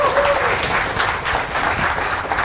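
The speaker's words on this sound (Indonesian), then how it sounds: "Tepuk tangan dulu buat kita semua Bapak Ibu sekalian ya." A seated audience at an Indonesian health seminar on Kangen Water breaks into a sustained round of clapping, many hands close together in a continuous, fairly loud wash.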